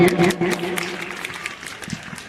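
A school function crowd applauds to honour donors who gave classrooms: clapping is loudest at the start and then thins to scattered claps, with some murmuring voices underneath.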